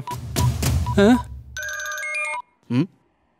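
A telephone rings with a bright, electronic tone for about a second, following brief speech, and a short voiced sound comes right after it stops.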